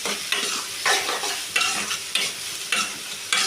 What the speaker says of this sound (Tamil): வெங்காயம் நல்லா வணக்கி விடலாம்.